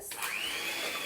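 Electric mixer whizzes chocolate chip cookie dough in a short, quiet burst, a whirring motor whine that rises in pitch as it spins up.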